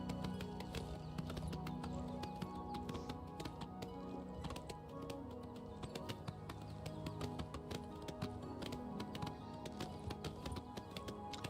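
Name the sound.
horse hooves galloping in Oblivion Remastered video game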